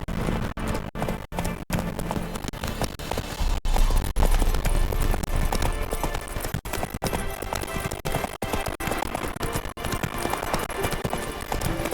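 A horse in The Witcher 3 gallops with quick, rhythmic hoof clip-clops, loud and close, continuing steadily with a few brief breaks.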